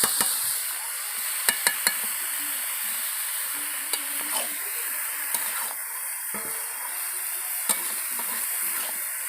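Cabbage and chicken skin fry in a pan with a steady, close sizzle, broken by occasional sharp clicks and scrapes as a utensil stirs against the pan.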